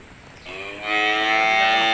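A single cow lets out a loud, close moo on a cattle farm, rising quickly and holding steady.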